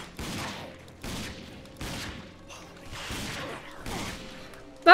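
Gunfire from a weak gun in Fallout 4 on normal difficulty: five sharp shots spaced about a second apart, each with a short decaying tail, loud and alone with no talking.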